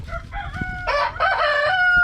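A rooster crows loudly and close, a drawn-out call rising over soft clucking hens in the background.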